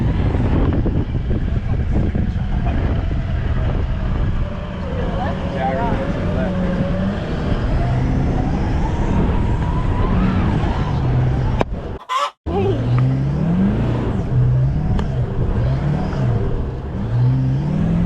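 A 4x4 revs hard through soft beach sand on Fraser Island (K'gari): a loud, continuous engine roar rises and falls under wind buffeting, with occasional voices inside the car.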